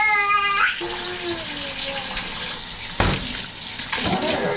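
Water runs into a sink while oxtail is washed with bleach and soap, a steady splashing flow with a couple of sharper knocks and sloshes near the end.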